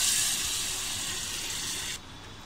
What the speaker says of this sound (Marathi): आता मी थोडंसं पाणी टाकते.